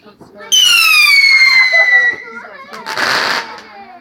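A bonfire night fireworks rocket screams upward with a loud descending whistle, followed by a crackling burst, close and loud, with voices faintly around it.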